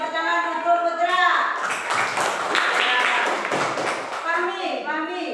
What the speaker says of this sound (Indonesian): Ya, tepuk tangan untuk Putra.